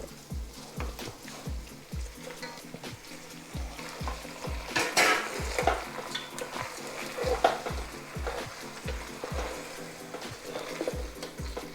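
Chicken sizzles in a hot pan over a medium flame under a steady, rhythmic scrape and clatter of stirring.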